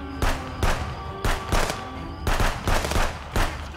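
Bursts of gunfire from an attack in the video game Contraband Police, about eight sharp, loud shots in an uneven rhythm over steady background hum.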